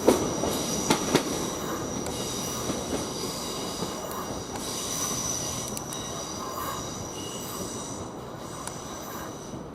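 A train rumbles steadily past through Didcot Parkway railway station, with metallic wheel squeals and light clicks over a continuous rolling roar, no one speaking.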